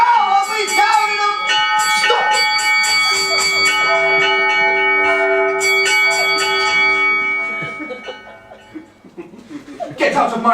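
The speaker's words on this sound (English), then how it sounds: "Stop ringing the bell!" A door bell rings repeatedly in a steady stream of ringing, sustained tones, loud and near, with a voice shouting and laughing under and between the rings.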